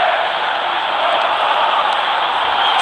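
Steady broadband stadium crowd roar in an eFootball video game match featuring FC Barcelona, a continuous loud wash of massed voices with no distinct cheers or speech standing out.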